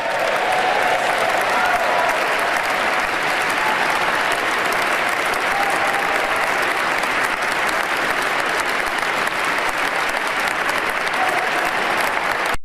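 Sustained applause from a large audience at a presidential inauguration speech, steady and loud throughout with dense clapping filling the whole stretch.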